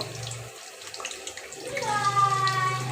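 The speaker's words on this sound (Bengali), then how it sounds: "তেলটা ভালো মতো গরম হয়ে গিয়েছে এখন আমি পাতাগুলো দিয়ে দিচ্ছি আমি একসাথে বেশ কিছু ভেজে নেব" Pumpkin leaf fritters (chalkumra leaf bora) frying in hot oil: a steady hiss and crackle that swells after the battered leaves go in, with a low hum underneath.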